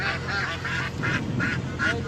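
Ducks quack aboard a river launch in a quick, regular series of nasal calls, close and fairly loud over a low engine-like rumble.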